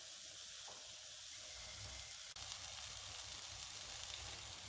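Eggplant slices cooking in a pan, a faint, steady sizzling hiss that continues evenly with one small click midway, no voices.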